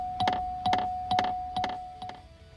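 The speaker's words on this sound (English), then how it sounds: "let's listen to the key and ignition chime" Five evenly spaced metallic dings from the key and ignition chime of a 1987 Cadillac Eldorado, a physical hammer striking a bell in the glove box, ringing close and clear at a steady rhythm over a faint constant hum.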